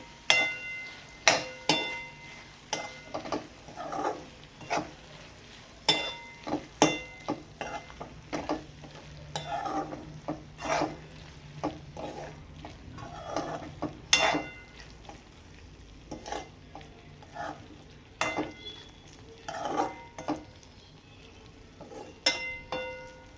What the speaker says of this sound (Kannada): ಒಣ ಕೊಬ್ಬರಿ ಪುಡಿ ಹಾಕಿ ಕಲಸೋದು.